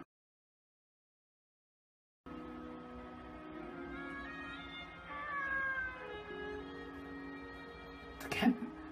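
A cat meows in the video game Nights of Azure, a short mid-pitched call rising over steady background game music, followed by a sharp louder burst near the end.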